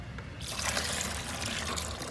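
Water pours from a tank on a boat into a bucket in a steady, splashing stream, close by and continuous for a couple of seconds.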